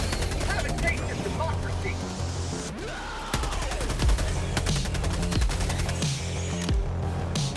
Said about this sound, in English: I'm gonna switch back to my Liberator so we're not firing machine guns at the same time.